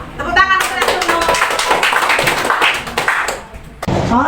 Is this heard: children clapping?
yes